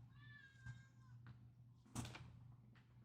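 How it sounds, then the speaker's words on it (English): A pet cat meows faintly in the background of a quiet room, with a couple of soft knocks or door-like bumps, including a sharper thud near the end. "Apologies for meows in the background."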